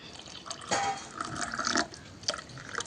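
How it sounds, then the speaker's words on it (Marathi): Water splashes and trickles into a glass in a few uneven bursts, close and fairly quiet. "पाणी घालून घेऊया"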